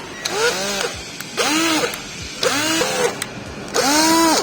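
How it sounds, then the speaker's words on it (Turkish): A power drill drills into a removed Toyota Corolla 1.2 Turbo intake manifold in four short bursts, each whirring up and winding down, with brief pauses between, close and fairly loud. "Manifoldunu söktük, delme işlemini gerçekleştirelim."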